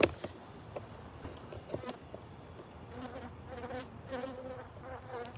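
Honeybees buzz softly around an open hive during an inspection, a faint continuous hum with brief louder passes of individual bees, mostly alone with no clear talk.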